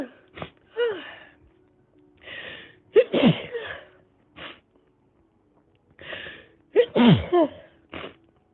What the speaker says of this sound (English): Ooh, I sneeze.